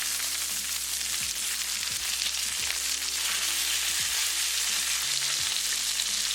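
Salmon fillets frying in a skillet over medium-low heat give a steady, close, dense sizzle throughout, with a few soft low bumps as the pieces are turned over.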